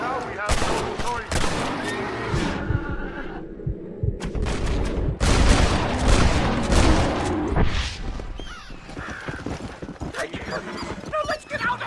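Gunshots fired at a bear in the western video game Red Dead Redemption, sharp bursts amid busy game sound, horse hooves and shouting voices, loud and close throughout.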